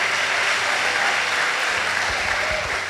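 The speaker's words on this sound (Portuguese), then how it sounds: "Salve de palmas para Jesus, amado." Church congregation applauding for Jesus, a dense, steady wash of clapping from many hands that fills the whole stretch, loud and close with a faint murmur underneath.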